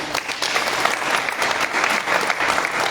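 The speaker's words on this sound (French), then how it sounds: "Il faut les applaudir." Steady, dense audience applause at a political party press conference in Côte d'Ivoire, continuous clapping from a room full of people for about three seconds with no talk.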